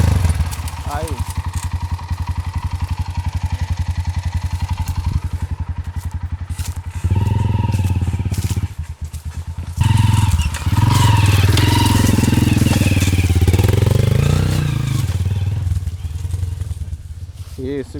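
A Honda XR 200 dirt bike on a trail revs and idles unevenly for a long stretch, its loud engine rising and falling as the rider accelerates, while people talk nearby throughout.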